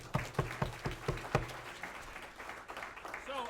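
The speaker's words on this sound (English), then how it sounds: "That's a round of applause right there" An audience at a political meet-and-greet for a gubernatorial candidate breaks into applause, with a burst of claps up front that fades into a softer, thinning patter.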